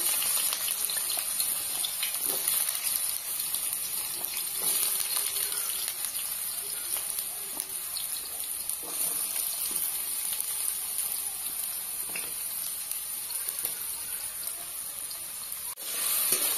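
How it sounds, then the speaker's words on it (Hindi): Cut potatoes fry in hot oil with a constant soft crackling sizzle like light rain, steady and moderately quiet, with a few faint utensil knocks and no talking. "काटी थिबा आलू को आमे तेल रे फ्राई कर देबा।"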